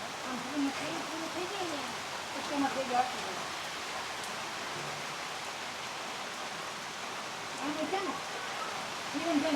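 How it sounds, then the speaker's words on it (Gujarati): Heavy rain falls steadily at Janaki Van forest park in Vansda, a dense, even wash of drops close by, with someone talking intermittently over it. "અત્યારે જાનકીવનની અંદર બહુ વરસાદ છે. તમે જોઈ શકો છો. વરસાદ એટલે કંઈ ઘટે નહીં એવો વરસાદ પડે છે."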